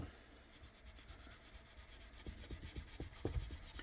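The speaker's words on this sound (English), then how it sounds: "it also definitely polishes frets up" Metal frets on a Telecaster-style electric guitar polished by hand with a metal polish, a soft, steady rubbing with faint irregular scrapes that grow slightly louder and more pronounced toward the end, close-up with no talking.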